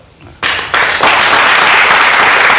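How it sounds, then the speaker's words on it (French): Applause from an audience breaks out and builds in quick steps, settling into sustained loud clapping. "j'aimerais qu'on l'applaudisse sur ce point-là"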